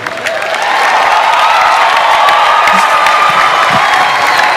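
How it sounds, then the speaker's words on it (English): A large conference audience at a wealth summit bursts into loud sustained applause and cheering for Pastor Matthew Ashimolowo, with whoops and shouts carried over steady dense clapping. "A round of applause for Pastor Mathew Ashimolowo"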